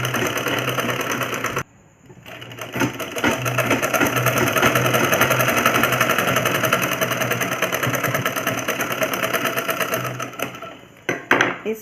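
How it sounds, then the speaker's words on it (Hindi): A sewing machine stitches a straight seam along a trouser hem, a loud close rapid chattering whir that starts after a brief pause near two seconds, runs steadily for most of the stretch, then slows with a few final clicks. "यहाँ से सीधी सिलाई लगा लेते हैं"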